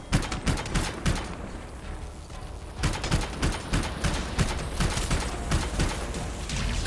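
Rapid bursts of gunfire from the video game Anthem, dense volleys of shots crackling in quick succession with a brief lull before the firing resumes, loud and continuous.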